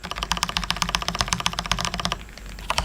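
A burst of rapid keystrokes on a second mechanical keyboard with identical switches and case, close and crisp, clattering for about two seconds before thinning to a few last taps.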